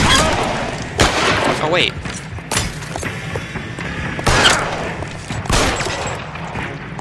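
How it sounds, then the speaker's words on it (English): Several loud gunshots ring out in an L.A. Noire shootout, irregularly spaced, with a voice briefly speaking between them. "Shoot him! Let me shoot him!"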